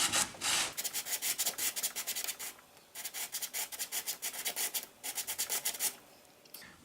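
A bone guitar nut blank is sanded to thickness in a steady run of close, rhythmic rasping strokes, each back-and-forth pass clearly separated, with a brief pause midway.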